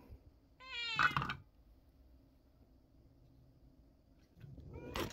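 A cat meows twice, a rising drawn-out call near the start and another brief one at the end, with quiet background hum between.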